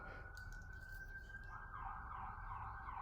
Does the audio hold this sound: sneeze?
no